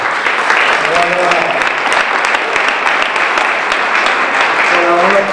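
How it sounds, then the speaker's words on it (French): Loud, dense applause fills a hall at a chess tournament event as a pianist is introduced, steady clapping throughout with a few voices briefly audible beneath. "on applaudit"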